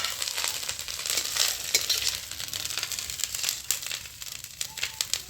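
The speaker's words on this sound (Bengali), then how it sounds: "নারকেলগুলো আমি হালকা করে ভেজে নিয়েছি, এবার নামিয়ে নেব।" Grated coconut lightly frying in oil in a kadai, giving a dense, steady crackle with soft crinkling scrapes as it is stirred. No one speaks.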